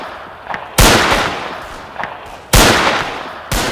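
Musket volleys fire in a Zulu Wars game mod: three loud, sharp massed reports, each a broadband crack trailing into a rolling decay, with fainter scattered shots between them, no talking.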